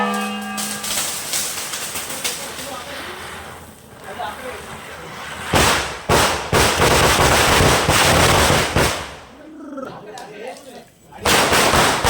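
Firecrackers burst in loud, rapid bursts at a village Tulsi puja celebration, some crackling in quick strings, with people talking in between and a few softer pops later.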